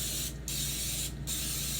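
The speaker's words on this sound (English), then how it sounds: "I use just regular non-stick cooking spray and a standard muffin pan. Heavily spray all" Non-stick cooking spray blasted heavily into a standard muffin pan, a loud, steady hiss running almost continuously with two brief pauses between bursts, no talking.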